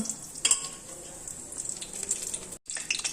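Cumin seeds hit hot mustard oil in a wok and crackle and sizzle steadily, with a few sharp pops and brief clinks of stirring, close and moderately loud.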